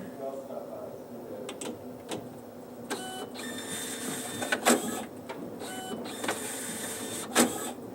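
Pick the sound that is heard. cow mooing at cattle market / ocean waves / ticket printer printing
ticket printer printing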